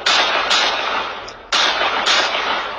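Gunshots fired from across the street at a home, caught on a doorbell camera: three or four sharp, loud cracks spaced about half a second to a second apart, each trailing into a broad echoing decay.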